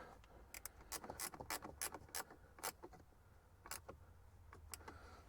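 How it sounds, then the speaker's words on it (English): A box-end wrench turns a screw while installing a trailer brake controller mount, producing a quick series of faint metallic clicks and ticks in irregular bursts. "So we're just going to use a boxed-in wrench."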